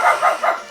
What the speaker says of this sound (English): dog barking, I'm sorry